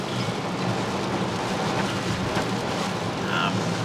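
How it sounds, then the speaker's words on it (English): Heavy pouring rain drumming steadily on a car while driving on a South Island road near Reefton, New Zealand, a dense, even roar with road noise beneath. "My goodness, it is pouring down."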